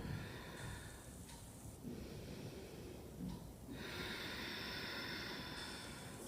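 Slow, sustained yogic exhale through a constricted throat, a soft airy hiss that rises and falls in long waves during a restorative yoga flow, close and steady with no talking.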